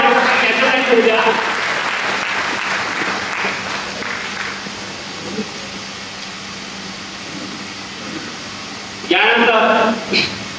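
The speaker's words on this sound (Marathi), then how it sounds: "परत एकदा जोरदार टाळ्या त्यांच्यासाठी होऊ द्या." An audience at a political party workers' rally claps loudly in a sustained burst that fades over several seconds, followed by a quieter room and a brief renewed burst of clapping near the end.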